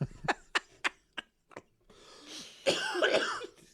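A string of short, sharp coughs close by, followed by a longer rough throat-clearing cough.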